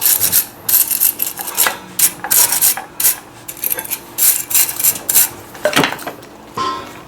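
Brake pad shims from a 2022 Kia Sorento are scrubbed clean during a front brake pad and rotor job, giving repeated close, sharp scraping and rubbing strokes in an irregular rhythm with brief pauses.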